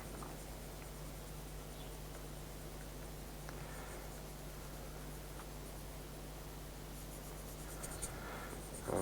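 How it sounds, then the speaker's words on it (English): Soft continuous scratch of a pencil held flat with a chisel point, shading a broad area on paper for a realistic still-life spoon drawing, faint and close over low room hiss. "So I'm just holding the pencil absolutely flat, and I'm using one of my chisel points."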